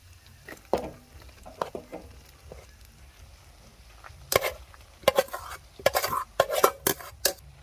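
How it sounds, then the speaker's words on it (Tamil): A pan of fried rice with egg is stirred and tossed, giving intermittent scraping and clattering strokes of a utensil against the metal; quiet at first, the strokes grow louder and more frequent toward the end. "சோறு போட்டு நல்லா கலந்துங்க முட்டையோட."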